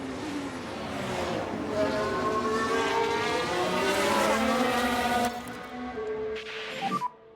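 Engines whine loud and close as an F1 car enters the pit lane in the video game F1 Manager 2023 at Singapore. The whine climbs and falls in pitch and rolls on steadily before cutting off near the end.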